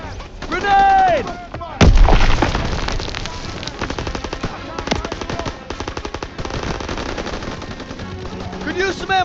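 Gunfire and explosions from the video game Call of Duty WWII: a loud blast near the start, then sustained rapid machine-gun fire with crackling shots, while short voiced calls sound over it.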